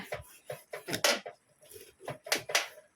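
Knife strokes chop through snakehead fish on a cutting board in a kitchen, a run of sharp, close thuds and scrapes in an uneven rhythm, about eight cuts with a short pause midway.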